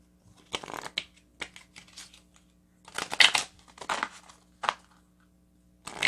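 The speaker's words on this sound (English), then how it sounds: "Let's shuffle this deck here." A tarot card deck is shuffled in quick riffling bursts, with pauses between, close and fairly quiet, ending in a longer flurry of shuffling.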